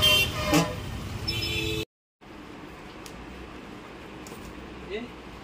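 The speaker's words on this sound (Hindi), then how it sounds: "ना ट्रैफिक है" Busy town street traffic near a town hall, with a car horn tooting briefly among the steady hum of vehicles, heard from nearby outdoors; the sound cuts out for a moment before the traffic noise resumes.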